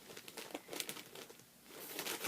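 Crinkling of a dusty plastic bag being handled, close and fairly quiet, in a brief run of irregular crackles and rustles with no talk.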